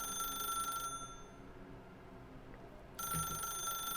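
In The Stanley Parable Ultra Deluxe, a telephone rings with a bright electronic trill that sounds, stops for about two seconds, then starts again, steady and moderately loud over a low background hum.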